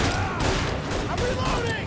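Dense 1930s-style gunfire in Mafia: Definitive Edition, a rapid fusillade of overlapping shots crackling continuously and loudly, with shouting voices mixed in among the shooting.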